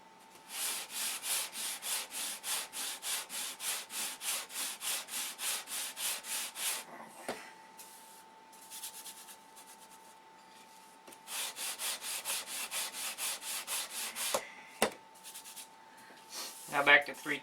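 Sandpaper rubs balsa wood seams level in quick, regular back-and-forth strokes, in two runs separated by a quieter pause, with a few soft knocks near the end.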